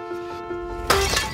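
Glass shatters in a film scene: a sudden loud crash bursts in near the end, cutting across steady background music.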